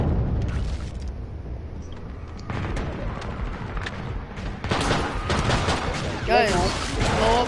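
Rapid, overlapping gunfire and booming blasts in the Killing Floor 2 shooter game, loud and dense, with raised voices of players over the shots.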